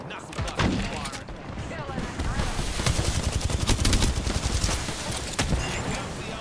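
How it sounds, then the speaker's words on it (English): Knuckle Cluster ability firing in Apex Legends during a competitive scrim, a dense rapid crackle of repeated bursts and thumps that runs nearly continuously, loud and close. "Knuckle cluster firing."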